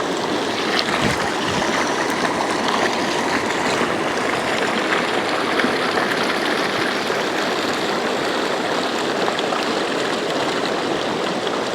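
The Cowlitz River rushes steadily nearby, a constant broadband wash of flowing water with no pauses and no voices.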